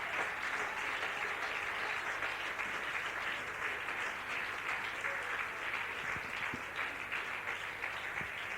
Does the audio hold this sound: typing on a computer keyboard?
no